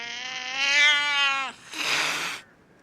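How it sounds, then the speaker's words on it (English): A cat gives a drawn-out, strained yowl, then a sharp, breathy hiss and spit in a single burst, all close and clear with no talking. "The cat spat again."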